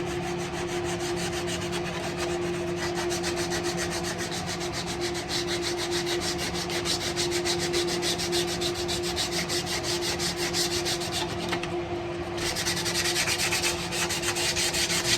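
Sandpaper rubbing back and forth along a carved mahogany guitar neck, a steady close scratchy rasp with quick repeated strokes throughout and no voices.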